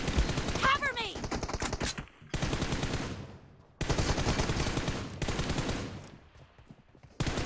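Rapid automatic gunfire from the video game PUBG Mobile, loud dense bursts lasting a second or two each, broken by short near-silent gaps, with a brief chirpy tone early on.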